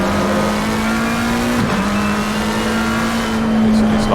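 A GT race car at Snetterton in the Assetto Corsa Competizione sim, heard from the inboard camera: a loud, steady engine drone that briefly dips once partway through, then settles back to the same howl.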